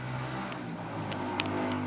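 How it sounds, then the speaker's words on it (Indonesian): A motorbike passes by outside, its engine a steady moderate drone that holds for about two seconds with a slight rise, somewhat distant and heard through a room. "Motor lewat tutup pintu."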